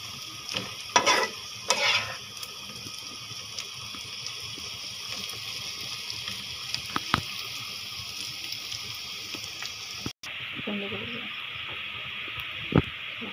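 Teasel gourd frying with onion in a pan, with a steady close sizzle and scattered scraping stir clatters from a spatula, a few louder knocks, and a short pause near the end before the frying continues.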